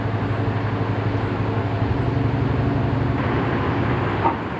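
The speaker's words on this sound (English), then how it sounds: "now we're going to weigh the train." A Reading Blue Mountain & Northern train creeps onto a scale at a steady two or three miles an hour to be weighed, giving a continuous low rumble with a faint hum and no speech.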